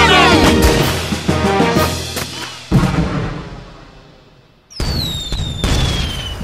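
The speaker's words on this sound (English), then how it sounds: "Attack and defend and launch the candy cannon!" A cartoon candy cannon fires with loud, booming bursts like fireworks, dropping off briefly before another blast that carries a bright, falling whistle, all up close in an animated Nutcracker musical scene.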